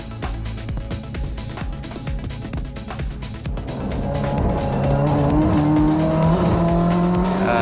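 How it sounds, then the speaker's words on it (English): A race car from the Rolex 20 accelerates, its engine note climbing steadily through rising revs and growing louder and fuller as speed builds, heard from close by with no talk. "this is how I gain speed, by accelerating this way"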